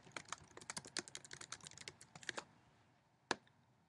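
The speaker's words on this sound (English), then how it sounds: "So I can type my text," Someone types text on a computer keyboard. Quick, irregular key clicks run for about two and a half seconds, then pause, and one last sharper tap follows. The sound is quiet and close, with no talking.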